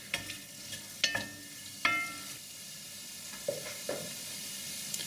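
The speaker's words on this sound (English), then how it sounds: "So just stir that around." Rabbit pieces in cider are stirred in a frying pan. The utensil scrapes and clacks against the pan in a handful of distinct knocks over a soft, low sizzle, heard close and fairly quiet.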